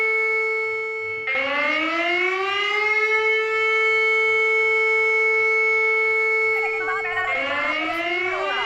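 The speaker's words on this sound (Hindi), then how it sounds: "जो बजर और हूटर की आवाज उस वक्त आप सुन रहे हैं" A hooter siren on a live Indian election-results broadcast marks the countdown to the first trends, with a loud, sustained wail that rises, holds steady, then dips and rises again near the end.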